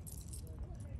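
A set of keys jangles briefly and close by, a short metallic rattle over a low background rumble.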